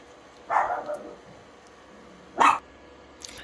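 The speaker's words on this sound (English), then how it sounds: "My ladies back here decided there was something they just had to bark at." Indoor dogs, a pair of household females, let out two separate short bursts of barking with a quiet pause between them and a faint yip at the very end, fairly close by.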